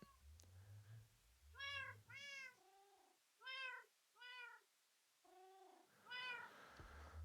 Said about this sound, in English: The cat shouldn't be that close to the edge